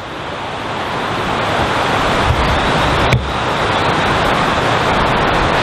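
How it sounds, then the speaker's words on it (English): Strong, steady wind roars across a microphone outdoors on a golf course, a dense unbroken rush with two brief bumps of buffeting and no talking. "it's really windy here and it's a lot of fun"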